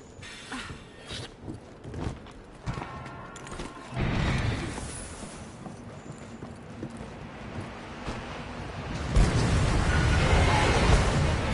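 A Dragonator siege weapon fires during a Tempered Kushala Daora event in the Monster Hunter video game, with heavy booming bursts rising out of a steady rumbling game soundscape, the loudest blast arriving near the end.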